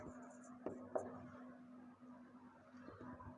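A formula for an English grammar lesson on active and passive voice being written on a board, heard as a few soft scratchy strokes and taps close by over a steady low hum.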